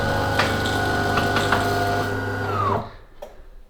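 A DeLonghi Magnifica S coffee machine running its descaling cycle drones with a steady motor or pump hum and a few light knocks, then winds down and stops, leaving near silence.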